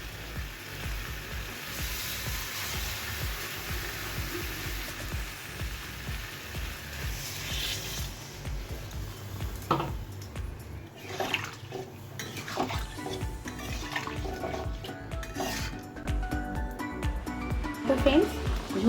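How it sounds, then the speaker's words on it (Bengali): Water is poured into spice masala frying in oil in a pan for a prawn curry, giving a steady sizzle and splashing bubble close by, with a voice talking over it. "এর মধ্যে এবার আমি জল দিয়ে দেবো।"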